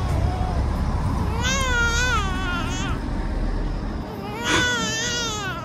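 A baby cries outdoors at night in a residential complex, with repeated wailing bursts rising and falling, fairly loud and close, and a quiet gap before a final cry.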